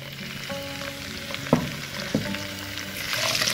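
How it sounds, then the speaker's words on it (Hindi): Carrots, peas and potatoes fry with golden cumin seeds for pulao, giving a close, steady sizzle with two brief clunks of a spoon against the pot. "अच्छे तरीके से सब्जियों को फ्राई करेंगे।"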